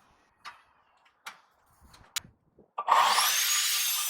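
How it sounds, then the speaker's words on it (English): An old wooden decking board is sawn by hand: a few scattered taps and scrapes as the blade is set, then a steady loud rasping stroke that continues to the end. "I cut a 50cm length off of the piece I've got."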